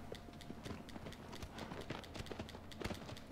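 Horse hooves trot in a steady clip-clop rhythm across rough ground in Shadow of the Colossus, each footfall crisp and close, with a faint ambient bed beneath.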